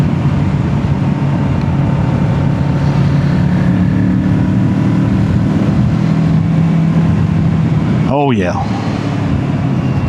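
Kawasaki Z650 motorcycle engine held around 5,000 RPM on the road, a loud, steady drone with wind rush, briefly interrupted by a short spoken remark.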